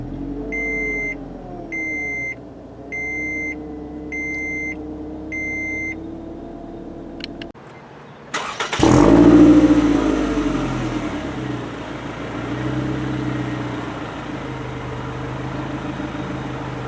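A 2016 Scion tC push-button start: a run of five evenly spaced electronic chimes over a steady idle-like hum, a brief dropout, then the engine cranks and catches with a loud surge before settling into a steady idle.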